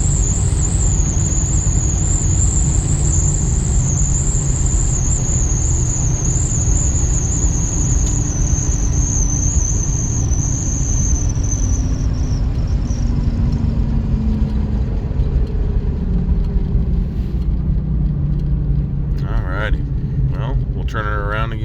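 A 1990 Dodge Ramcharger truck with a swapped fuel pump accelerates, its engine a loud, steady roar with a high whine that fades partway through, and a few sharp sounds near the end.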